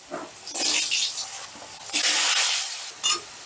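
Potatoes tossed into hot oil seasoned with salt and turmeric, giving loud bursts of hissing sizzle that swell and fade in waves, with quieter crackling between them.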